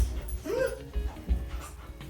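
A dog whimpers and yips during a basic obedience training session at home, a rising whine with short soft yelps over low thumps and faint background voices.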